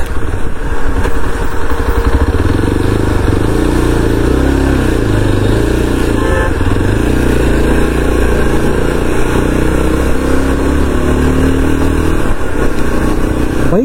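A motorcycle climbing the winding hill road up to Yelagiri hill station, its engine droning loud and close without a break, with the pitch shifting slightly as the rider works up the ascent.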